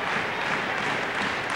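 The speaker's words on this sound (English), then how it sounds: "Raider crowd back into it" Spectators at a college volleyball match between Wright State and UIC applaud and cheer in a dense, steady roar that fills the whole moment.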